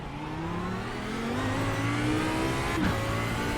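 An Audi R8 LMS EVO II GT3 race car running on race fuel at Spa-Francorchamps in iRacing, its engine droning steadily and rising in pitch under acceleration, with a brief shift near the end, close and continuous.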